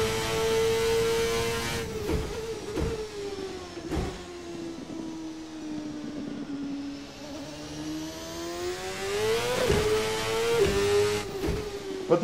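An IndyCar engine screams through a flying lap in Assetto Corsa, its pitch climbing and sagging steadily with sharp breaks at each gear shift, loud and continuous throughout.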